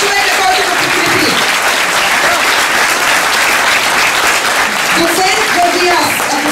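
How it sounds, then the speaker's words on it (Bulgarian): Crowd at an exhibition and film screening event at an Arab-Bulgarian cultural centre claps loudly and continuously, dense sustained applause with a voice speaking over it briefly near the start and again toward the end. "Аплодисменти, дами и господа."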